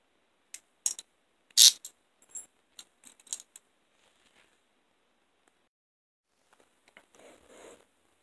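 Heavy-duty hinged handcuffs are unlocked with a key, giving a run of sharp metallic clicks and ratcheting snaps close up. A softer rustle follows after a pause.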